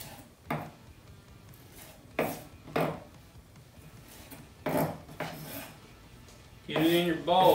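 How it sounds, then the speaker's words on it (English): A knife chopping fresh cilantro on a board, heard as a handful of separate, spaced thuds and scrapes at a moderate level, with a short clattering rustle near the end. "I got a little bit of fresh cilantro. Take out all the stems. Chop it up a little bit."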